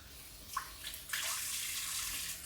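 Water runs from a salon tap at a hair washing basin, a soft, steady splashing that swells partway through, with faint background and no talk.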